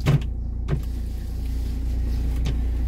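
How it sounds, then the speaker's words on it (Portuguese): Electric window in a car sliding open, a steady motor whine lasting a couple of seconds inside the cabin after a few soft clicks, with a low engine hum underneath. "Vou abrir aqui a janela, tá bom?"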